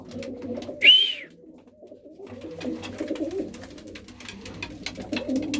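Iraqi pigeons with feathered feet coo in a loft, soft low rolling coos running steadily through most of the stretch after one brief sharper call near the start.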